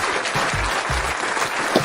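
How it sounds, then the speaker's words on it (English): Sustained burst of crowd applause, dense and even throughout, with low thumps underneath and no talking over it. "I want to give a round of applause to the real talkers."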